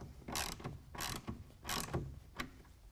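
A TruXedo Sentry tonneau cover clamp is tightened down on a 2019 Chevy GMC 1500 bed, giving four close ratcheting bursts, three long and one short, with quiet gaps between.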